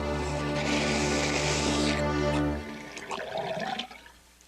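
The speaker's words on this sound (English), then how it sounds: "Like undersea vacuum cleaners, they slurped up bubbly foam." Watery gurgling and slurping like a big flush, standing in for sea creatures sucking up bubbly foam in a storybook effect; a loud rushing surge cuts off after a couple of seconds into softer bubbling drips.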